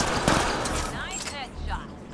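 Rapid bursts of gunfire strike remnant enemies in the sci-fi shooter Mass Effect Andromeda, a loud close volley that trails off into scattered shots and ringing effects.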